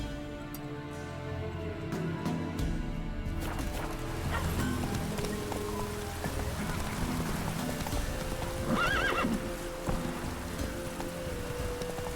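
Hoofbeats of the game horse Roach clatter in a busy mix of music and effects, with a brief whinny partway through, moderately loud among layered game sounds.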